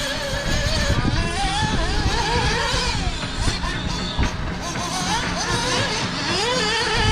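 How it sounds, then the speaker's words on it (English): Nitro RC buggy lapping a racetrack at full throttle, a continuous high buzzing engine whine that rises and falls through corners and jumps, loud and steady throughout. "He's doing 32-second laps with a nitro Buggy."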